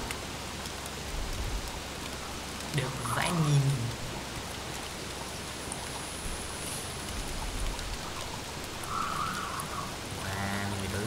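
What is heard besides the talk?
rain in the video game Don't Starve Together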